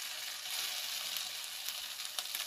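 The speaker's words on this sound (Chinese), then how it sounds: "逐一逐一咁反转煎另外嘅一面" Tofu fries in a wok after being flipped, giving a steady, even hiss of hot oil that crackles lightly and runs on without a break.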